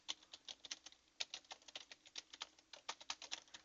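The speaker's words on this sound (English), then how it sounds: "So I'm going to type in my password." Password typed on a Konica Minolta bizhub copier's keypad or touchscreen during scan-to-email setup: a quick run of light, even key taps, close and fairly quiet, with no talking.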